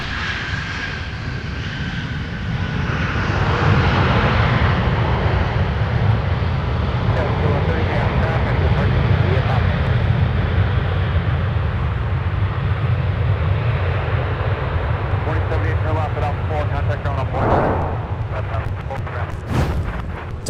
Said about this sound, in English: Delta 2078 touching down from San Francisco, California with an A321.